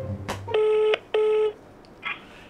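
Two long electronic ringback tones sound on an outgoing phone call, each nearly half a second, separated by a short gap. Brief clicks and faint noises come before and after, with no speech.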